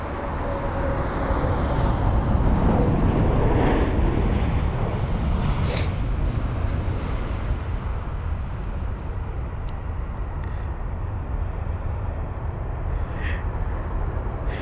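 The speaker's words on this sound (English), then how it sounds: "It's been in the sky for 58 minutes, is this 787" A seven-year-old Boeing 787 flies near London Heathrow, returning from a test flight, and its broad engine roar rises early on, then holds as a steady, loud rumble that slowly eases with no voices over it.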